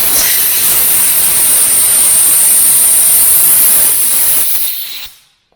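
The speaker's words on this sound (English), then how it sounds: "I can feel the air coming out here, so. Blow out the groove on both sides." Compressed air blows loudly and continuously into the bar groove of a STIHL 025 chainsaw, a harsh close hiss lasting about five seconds before cutting off abruptly.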